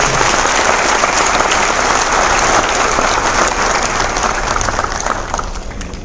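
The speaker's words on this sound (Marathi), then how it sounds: "आपण टाळ्या वाजवायला" Dense, loud audience applause at a public community event, sustained clapping from many hands throughout, easing slightly at the very end.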